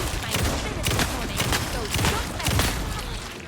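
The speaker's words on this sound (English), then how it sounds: "Just shoot everything." Rapid gunfire bursts in the video game Alan Wake II crack repeatedly at a brisk rhythm, fairly loud and dense, with some voice faintly mixed underneath.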